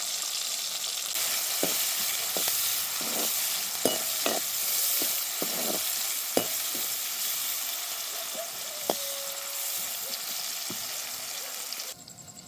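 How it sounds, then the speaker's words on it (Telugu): Chopped onions hiss in hot oil with cumin seeds while being prepared for a chicken drumstick curry. The sizzle is steady and close, broken by irregular clicks and scrapes of stirring, with no talking. "జీలకర్ర కాగింది, తరిగి పెట్టుకున్న ఎర్రగడ్డ ముక్కలు వేస్తున్నా."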